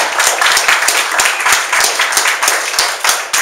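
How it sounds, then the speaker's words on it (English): Holiday networking gathering in Tracy, with loud, close, vigorous applause from an audience. Dense overlapping claps run continuously without a break. "Everyone else, give these people a big round of applause."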